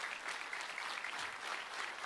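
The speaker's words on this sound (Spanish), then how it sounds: "Den un fuerte aplauso al Señor" Dense, continuous applause from a church congregation praising the Lord, an even wash of many hands clapping in the room with no break.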